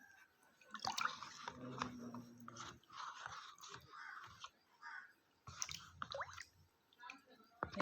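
A brass cup is washed with water and a brush, giving close, fairly faint wet squishing, dripping and intermittent scrubbing strokes.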